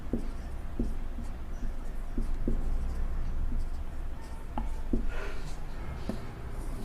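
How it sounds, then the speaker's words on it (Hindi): Pen writing trigonometric ratios during a Class 10 maths lesson, a series of light scratching strokes and taps, close and moderately loud, with no talk. "यहां पर लिख लेते हैं।"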